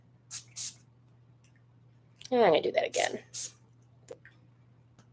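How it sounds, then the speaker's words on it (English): A Spiritual Protection Shielding Light Spray bottle gives a few short, crisp spritzes, two near the start and two more later, around someone speaking quietly. "So the first one I'm going to use is going to be her Spiritual Protection Shielding Light Spray."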